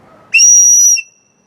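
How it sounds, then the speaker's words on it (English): A loud, shrill whistle built into the cap of a kubaton pen sounds once for about two-thirds of a second, steady and piercing, after a brief stretch of low background noise. "It's got a whistle built into the cap."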